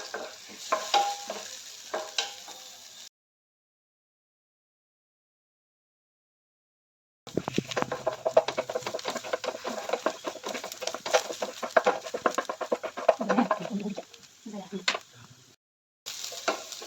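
Chopped garlic and ginger being sautéed in a pan, with bursts of sizzling and the scrape of stirring, close by, broken up by a silent gap in the middle.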